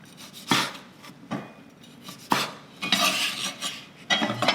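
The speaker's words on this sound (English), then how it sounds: "So I'm going to cut the lime." A kitchen knife cuts through a fresh lime on a board while pho is being prepared, giving several sharp, close scraping and tapping strokes in uneven bursts.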